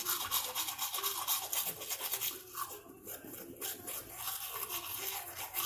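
A toothbrush scrubs over teeth fitted with braces in quick circular strokes, a close, steady, rasping bristle sound that runs continuously with slight rhythmic pulses.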